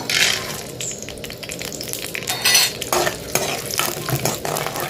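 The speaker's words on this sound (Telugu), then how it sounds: "ఇదిగోండి పల్లీలు చూసారా ఎలా వేగినాయో, ఇలా వేగాలండి." Peanuts fry in oil in a pan as a tempering for upma, with a loud, continuous close sizzle and frequent scraping stirs throughout.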